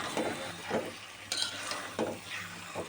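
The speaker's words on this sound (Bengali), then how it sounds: "তো মশলাটার সাথে এখন আমি মাংসগুলোকে ভালো করে মিশিয়ে নেব।" Chicken pieces being stirred into a fried spice paste for a Bangladeshi chicken and potato curry, a soft sizzle with a few rhythmic scrapes of a spoon against the pan, close and fairly quiet.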